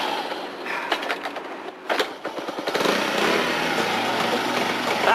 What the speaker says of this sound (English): Let's get it started. See if we can start it.